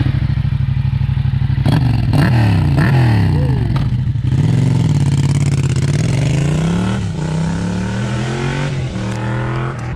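A motorcycle fitted with an aftermarket full exhaust line roars loudly and close, rising and falling in pitch as it revs and accelerates, with a rough, raspy tone throughout.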